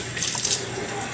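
Tap water runs steadily into a sink as a houseplant is given a light shower. The broadband rush stays close and constant from start to finish, with no voices.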